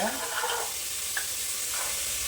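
Soaked black chickpeas going into a hot pot for a Chettinad masala curry, with a brief clatter and then a steady sizzle and stirring, close and moderately quiet.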